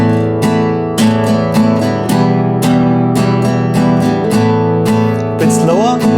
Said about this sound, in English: And let's try that with the second strumming pattern.